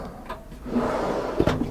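A pot drawer in the kitchen of a 2021 Dethleffs T7057 EB Trend motorhome slides open or shut, giving a short rolling rumble and a soft knock that ends with a firm thud, close by and fairly clear.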